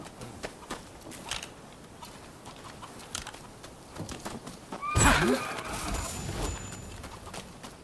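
A horse whinnies loudly in Rise of the Ronin, a sharp rising neigh rolling off into snorting after scattered hoof clops and light tapping.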